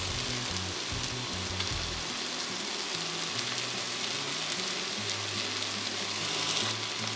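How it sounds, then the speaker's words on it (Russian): Carrots sizzle and fry in a pan, with tomato paste being added, a steady close hiss with faint stirring knocks and no talking. "И буду обжаривать, пока морковь не станет мягкой."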